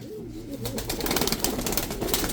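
A tumbler pigeon's low cooing near the start, followed by rustling and fluttering noises close by, at a pigeon auction in Sincan, Ankara.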